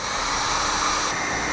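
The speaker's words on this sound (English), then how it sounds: "you use a heat gun versus a lighter, because a lighter can damage the butt connectors" A heat gun shrinks butt connectors during truck cab light wiring on a 2001 Dodge Ram pickup, giving a steady, loud, close blowing hiss with no talk.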